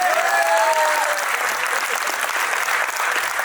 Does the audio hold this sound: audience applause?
yes